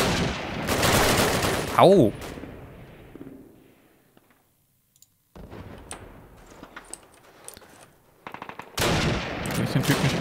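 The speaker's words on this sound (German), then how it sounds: "Auf wen schießen jetzt schon wieder?" Gunfire in Call of Duty, World War II setting with a Kar98k rifle in winter: loud rapid bursts at the start, a quiet stretch, then scattered shots and a renewed burst at the end, with a brief shout amid the fire.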